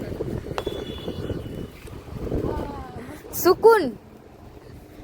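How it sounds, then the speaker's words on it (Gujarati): Cool wind gusts across the Sudarshan Setu bridge at Dwarka, a low, uneven buffeting rumble against the microphone while a person talks over it throughout. "એટલો ઠંડો મસ્ત પવન આવે"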